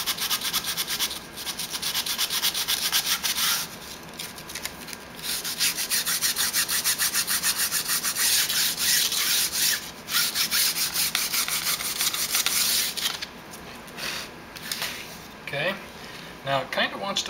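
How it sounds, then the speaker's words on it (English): The tail of a composite model plane is sanded by hand on both sides of a cut, giving a steady, loud, close rasping rub that runs almost without a break, stroke after stroke, with a few brief pauses. "Sand it. One's on both sides of the cut."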